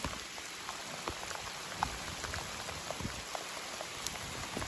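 Cold rain falls steadily in a national forest, a soft dense patter of drops on leaves and ground, continuous and fairly quiet with no talk.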